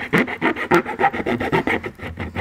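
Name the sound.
metal file scraping burrs off trailer hitch cutout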